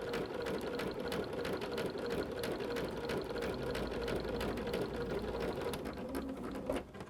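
A sewing machine running steadily while stitching a quilt block, with a fast, even mechanical chatter of needle strokes held close and loud for several seconds before it slows and stops, with no talking over it.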